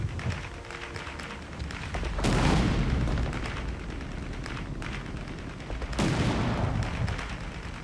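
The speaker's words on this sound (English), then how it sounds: "Throw a grenade at the anti-tank." Gunfire and heavy explosions ring out in a Company of Heroes 3 battle, with a continuous crackle of shots broken by two loud booming blasts.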